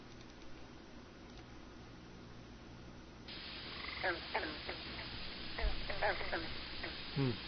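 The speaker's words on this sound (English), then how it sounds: "Frogs." Frogs croak in a played recording, a run of clear, repeated calls over a steady hiss that gets louder midway, heard in a paranormal and cryptozoology radio broadcast.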